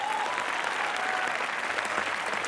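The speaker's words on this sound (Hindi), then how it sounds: "ठोको तालियां जरा जोरदार।" Studio audience on a comedy show clapping loudly and continuously, a dense burst of applause filling the room.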